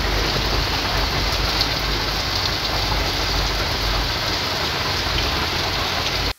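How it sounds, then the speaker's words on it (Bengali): Heavy, unbroken rain pours down during Cyclone Remal, a dense, loud, steady hiss that fills the scene for the whole stretch with no voices over it. "প্রচুর পরিমাণে বৃষ্টি হচ্ছে।"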